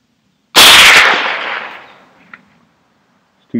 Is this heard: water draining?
no